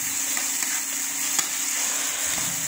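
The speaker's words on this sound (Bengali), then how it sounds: "এবার টমেটোটা দিয়ে দিচ্ছে, টমেটোটা দিয়ে ভালো করে কষিয়ে নেব" Tomatoes frying in a pan on a home kitchen stove, a steady close hiss and sizzle that keeps going with faint stirring clinks and no voices.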